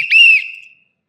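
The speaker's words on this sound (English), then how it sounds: "we got to blow the whistle for that" A single sharp, loud whistle blast, held for about half a second and then trailing off into silence.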